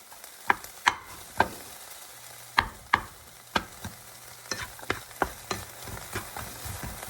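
Roughly cut onions sautéing in a pan for broccoli cheddar soup, a low sizzle beneath a string of sharp utensil taps and scrapes against the pan spaced irregularly throughout.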